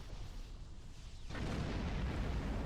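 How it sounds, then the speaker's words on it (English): A warp core explosion in the space game Star Trek Online lands as a sudden broadband blast, shifting from a low rumbling bed into a loud, sustained roaring wash that holds to the end. "Died to a warp core explosion."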